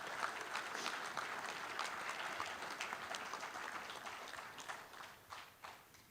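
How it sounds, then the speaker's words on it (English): A convention hall audience of American Legion members claps in sustained applause, dense and fairly distant, gradually thinning into scattered claps at the end. "Please give these dedicated Legionnaires a round of applause."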